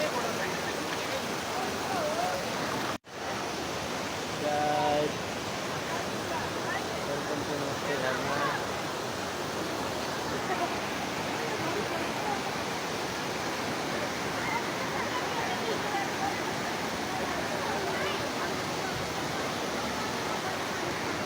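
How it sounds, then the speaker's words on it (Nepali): Shivajatta Waterfall near Dharan roars as a steady, dense rush of falling water, constant and loud throughout, with a brief dropout early on and faint voices beneath it. "यो हाम्रो झरना"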